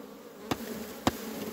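A swarm of honeybees being placed into a hive drones in a steady, close buzz, broken by three sharp knocks or taps spaced about half a second apart.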